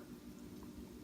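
Oxtail kare kare stew bubbles at a boil in a pot, a steady, low, rumbling burble that stays constant and fairly faint throughout.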